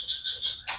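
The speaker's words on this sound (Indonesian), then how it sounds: "kalau kita ngeplok bikin video itu pasti kedengaran suara kodok" Frogs croak close by a car workshop where a Pajero Sport engine is being assembled, a quick run of rhythmic, chirpy calls followed by a louder, harsher burst.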